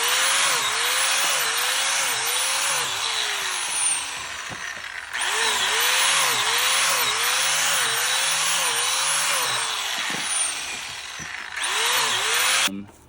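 A power drill whines loudly as it bores into a log for mushroom inoculation, running in long steady bursts with brief pauses and pitch dips under load.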